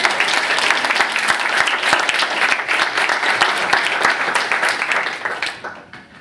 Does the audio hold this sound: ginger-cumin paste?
no